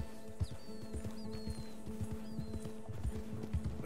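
Horse hooves clip-clop at a steady walking pace during a ride in the game Red Dead Redemption 2, fairly quiet over a soft ambient background.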